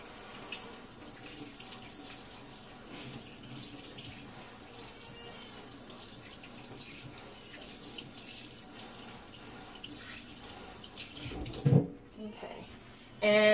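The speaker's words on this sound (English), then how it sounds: "I'm going to wash my hands." A kitchen tap runs steadily as hands are washed during candy making, a constant close hiss of flowing water lasting most of the stretch, with a brief splash and clatter near the end as the water is shut off.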